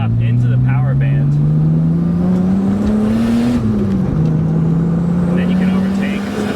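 Turbocharged BMW E30 engine climbing into its power band, a loud, steadily rising engine note that dips briefly as it shifts, then keeps building, recorded from inside the car while driving.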